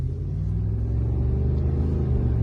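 A Dodge Dakota pickup truck rolls along with a steady, loud low engine rumble and drone from inside the cab, unbroken for a couple of seconds.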